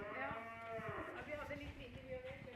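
Cows on a farm give a long, low, close moo that fills most of the moment, with faint barn noise beneath.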